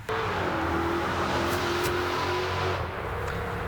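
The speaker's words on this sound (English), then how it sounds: "One car even raced down Friant during the middle of our interview." A car races down Friant road, its engine a steady, droning hum with a sustained tone. It stays fairly loud and close, then slightly fades near the end, with no speech.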